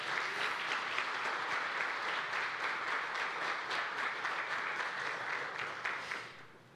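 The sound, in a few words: church congregation applauding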